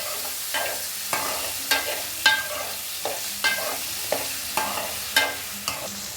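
Tomatoes and potatoes fry with onions in a pan for brinjal and potato curry, a soft constant sizzle broken by regular spatula scrapes roughly every half second; no voices.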